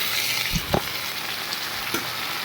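Potatoes frying with spices in a home kitchen pan give a steady sizzle, with a few stirring clatters and scrapes scattered through it and no voices.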